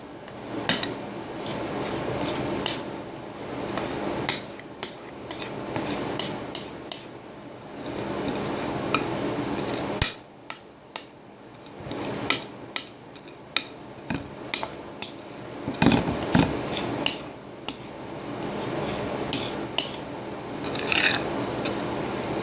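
Repeated metallic clinks and scrapes of a spoon against a dish of Oreo no-bake cheesecake, irregular and close, with sharp taps scattered over about twenty seconds.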